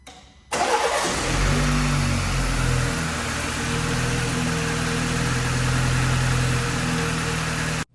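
A BMW 330i engine cranks and fires after cooling system repair, catching abruptly and then settling into a steady, loud idle with a constant low hum for several seconds.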